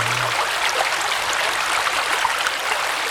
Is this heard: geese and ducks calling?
no